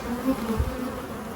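Honey bees buzzing around an opened hive box of about 30,000 bees during an inspection, a close, steady drone with individual bees whining past.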